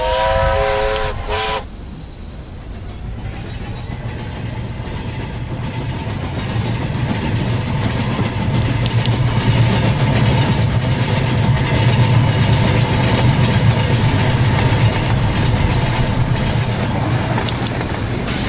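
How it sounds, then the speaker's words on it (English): A long train rumbles past in a video game, a steady low engine drone with clattering rolling noise that builds slightly and carries on without pause, after a short horn-like toot at the start. "Will the train ever end?"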